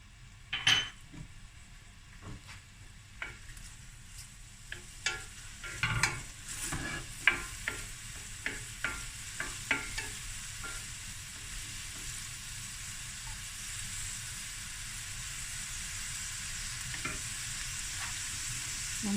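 Chilies and curry leaves sizzle softly in a hot pan under intermittent stirring clinks and scrapes, then settle into a steady low fry.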